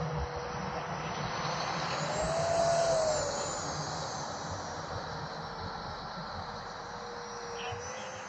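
A steady, rushing whine of an E-Flite Habu 50mm electric ducted-fan RC jet flying close by, swelling louder midway before easing back to a constant drone.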